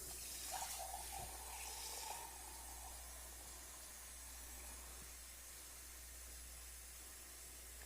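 Tap water running into a measuring cup for stuffed pepper soup in a home kitchen, a steady hissing pour that is strongest at the start and then settles into a quieter continuous flow, with no talking.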